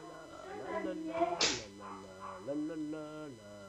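Dogs in the Minecraft Skyblock game give a few short barks and yips over a man's sung, wordless humming, with a sharp crack midway.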